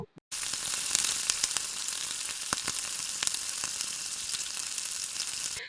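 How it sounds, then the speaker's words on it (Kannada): Garam masala and spices frying in oil on a tawa for egg fry, a steady close hiss with scattered sharp crackles and pops after a brief silent start. "ಈಗ ಎಲ್ಲದನ್ನು ಕೂಡ ಮಿಕ್ಸ್ ಮಾಡ್ಕೊಂಡು ಒಂದು 3 ರಿಂದ 4 ಸೆಕೆಂಡ್ ಮಸಾಲೆ ಎಲ್ಲದು ಕೂಡ ಫ್ರೈ ಆಗೋ ತನಕ ಇದನ್ನ ನಾವು ಬೇಯಿಸ್ಕೋಬೇಕು"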